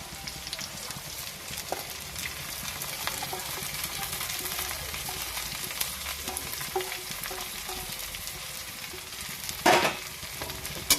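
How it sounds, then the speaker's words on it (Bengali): Flattened rice frying in a pan for chira pulao, a steady soft sizzle with occasional scraping stirs, close and fairly quiet, with a louder clatter near the end. "দিয়ে এবার আমি একটু নড়াচড়া করে নেবো"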